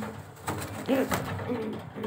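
A single soft coo from a male racing homer pigeon sounds close by, brief and low, over quiet background rustling.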